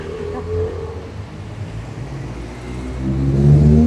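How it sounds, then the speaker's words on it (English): Mark 1 Mazda MX5 driving past in a scenic Welsh road convoy, a steady engine drone and road rumble that rises in level toward the end as the car approaches. "Another Mark 1 MX5."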